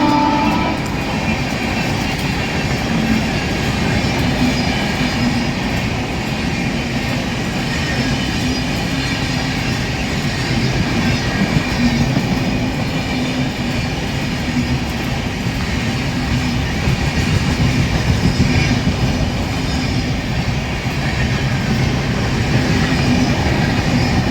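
The Bangalore Rajdhani Express passes on a cold winter morning, a loud, continuous rumble of rolling wagons and wheels on rail sustained throughout, with no talk.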